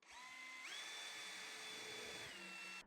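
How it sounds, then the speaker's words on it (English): Power drill boring a pilot hole for a screw in wood, a single short whine that ramps up in pitch, holds steady for about two seconds, then spins down, close and fairly quiet with no talk. "So I'm going to pilot out my hole."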